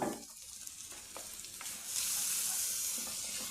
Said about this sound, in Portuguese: Eu vou deixar fritar bem, tirar bem essa gordura